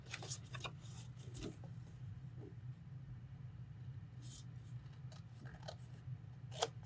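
Scissors cutting through a paper gift bag make several soft, scattered snips and rustles over a low steady hum, faint and close with no talk.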